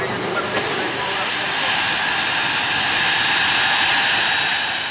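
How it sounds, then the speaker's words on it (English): A private jet's engines roar steadily on arrival at Milan, a broad continuous whine and rush that swells slightly louder toward the end, with no clear voices. "Ayrton Senna flies into Milan in his own private jet"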